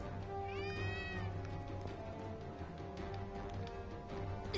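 A cat in the video game Gravity Rush Remastered gives a single rising-falling meow early on, set over a steady background hum and faint game sounds, with no talk.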